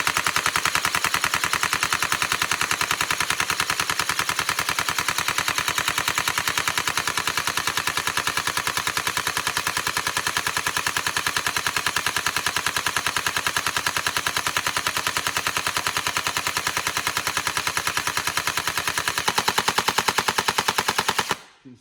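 A Tokyo Marui MK46 NGRS airsoft machine gun fitted with a Gate MOSFET fires one long continuous full-auto burst, a steady loud mechanical rattle that keeps going until the ammo runs out and it abruptly stops.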